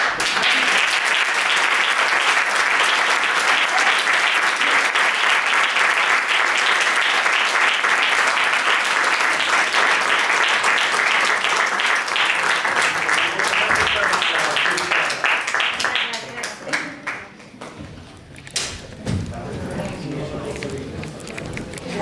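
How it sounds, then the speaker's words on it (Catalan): An audience in a small theatre applauds its guests after a post-show talk, a loud, dense clapping that holds for about fifteen seconds, then thins out into scattered claps and rustling as people start to murmur. "jo crec que els podríem tornar a aplaudir per aquestes persones"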